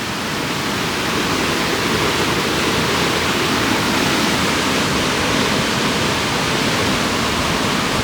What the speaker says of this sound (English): this is one of the creeks that goes through here